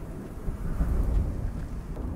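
A thunderstorm in the video game Smalland: a deep, steady rumble of thunder swelling and fading over a couple of seconds, with a hiss like rain behind it and no voices.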